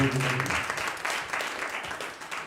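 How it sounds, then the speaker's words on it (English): Workshop audience applauding in a steady wash of clapping, fairly close and continuous, with a few faint voices mixed in underneath. "give them a round of applause"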